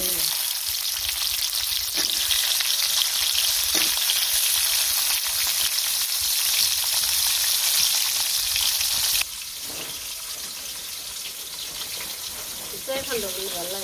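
Pointed gourd fries in oil in a village kitchen, a loud continuous sizzle with occasional stirring knocks, dropping slightly in level partway through, with faint sounds of people in the background near the end.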